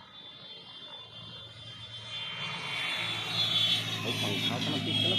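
An airplane at Azamgarh Airport roars on its takeoff run, a steady engine drone and rising jet whine that grow louder over several seconds, with people's voices faintly underneath.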